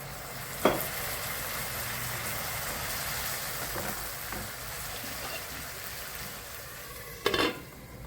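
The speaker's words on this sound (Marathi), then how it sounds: "तेल सुटेपर्यंत आपण परतून घेणार आहे" Paneer bhurji frying in oil, a faint steady sizzle with a few spoon knocks and scrapes against the pan, quiet and close, no talk.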